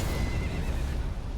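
A horse neighs in Elden Ring: Shadow of the Erdtree, a steady whinnying call lasting the whole moment over a dense low rumble of game sound, with no talking.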